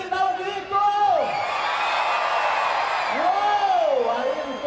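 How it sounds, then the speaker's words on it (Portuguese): A crowd of worshippers at a Marcha para Jesus street event in Palhoça lets out loud shouts and whoops, rising and falling in two swells close by. "Jesus aqui, dá um grito!"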